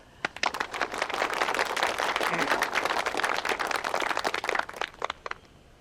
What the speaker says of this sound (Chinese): 好，大家鼓掌